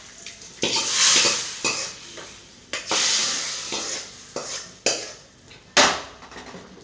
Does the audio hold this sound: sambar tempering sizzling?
yes